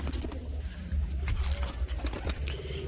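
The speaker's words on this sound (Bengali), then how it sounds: "তারপর দেখাবো বন্ধুরা এই সাদা টাইপের পায়রাটা" Soft, low pigeon coos carry through a close, busy pen of pigeons, with rustling and scuffling around them, all faint and steady with no clear pauses.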